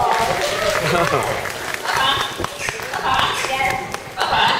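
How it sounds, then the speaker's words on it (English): Audience applause at an animal show at Flamingo Land in Malton, North Yorkshire: a dense, steady patter of many hands clapping throughout, mixed with crowd chatter and voices. "Let's give him a round of applause."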